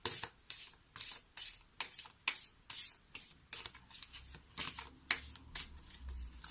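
Tarot cards shuffled by hand in a steady run of about a dozen short riffling bursts, close and fairly quiet, with brief pauses between them and no talking.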